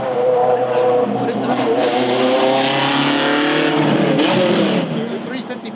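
A Ferrari 355 set up as a track car revs hard and loud, its engine note climbing and holding in a sustained, close roar, with people talking over it.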